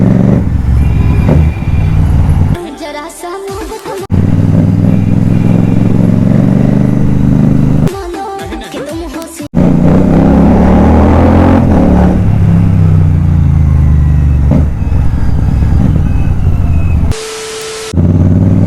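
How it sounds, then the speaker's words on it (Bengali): A motorbike being ridden on a sunny road, its engine droning loud and close throughout with steady low rumble, interrupted by a few brief dropouts where the sound cuts away. "অনেকদিন পরে বাইক চালাচ্ছি"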